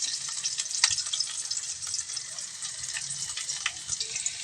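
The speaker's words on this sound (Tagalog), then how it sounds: "At magisa na tayo ng bawang at saka sibuyas para mabango ang ating pusit." Garlic and onion sauté in hot oil in a pan, a steady close sizzle with crackling pops throughout and occasional stirring scrapes, no voices.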